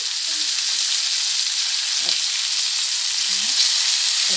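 Pepper fish fry sizzling in a pan, a loud, steady, close frying hiss with a couple of faint knocks from the pan.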